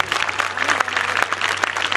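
An audience at a gathering claps briskly for the guardians and parents present, a short burst of dense, close applause with a few sharper individual claps.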